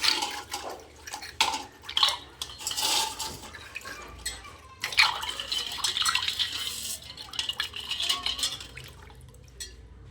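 Clay oil lamps being washed by hand in water, with irregular splashes, sloshing and occasional light clinks of the lamps knocking together, close and fairly loud in bursts.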